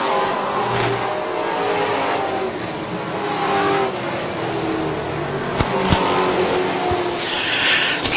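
Racing trucks roar around the Charlotte oval in a steady, loud wash of engine noise, with pack sound rising and falling as trucks pass and a few sharp bangs near the end.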